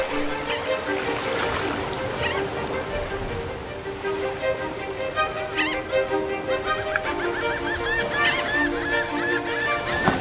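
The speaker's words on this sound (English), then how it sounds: "the park fills with birds, many of them occupying every little beach space available" Migrating shorebirds crowding a park beach, a dense chorus of honking, squawking calls overlapping continuously with wind and surf noise, loud and close.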